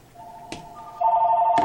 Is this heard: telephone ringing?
yes